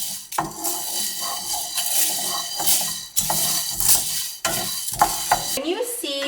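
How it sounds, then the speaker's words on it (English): Fenugreek seeds and cinnamon being stirred while dry-roasting in a pan for Sri Lankan curry powder, with a continuous loud scraping and rattling of spoon on metal, close up, broken by brief pauses. "add your fenugreek and cinnamon and stir for about another minute"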